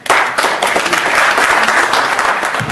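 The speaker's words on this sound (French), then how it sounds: "je vous prie s'il vous plaît de les accueillir avec quelques applaudissements" An audience at an event for Congolese women applauds loudly and close, a thick continuous burst of clapping that starts suddenly and holds steady to the end.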